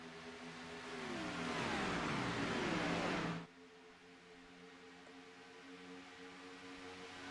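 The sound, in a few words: race cars running down the back stretch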